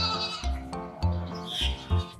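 A goat bleats several times in quick succession, each call nasal and wavering, loud and close, with no talk over it.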